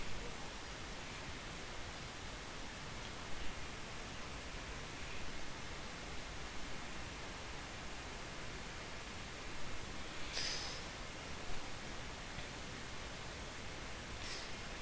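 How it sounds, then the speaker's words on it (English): A steady, faint whooshing hum of an electric fan runs continuously in the background, broadband and unchanging. "if you can hear in the background, I have my fan going"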